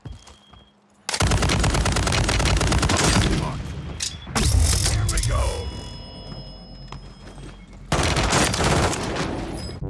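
Loud, dense gunfire from the shooter game Warzone 3, sustained bursts with short pauses, heard up close while a player talks over the shooting.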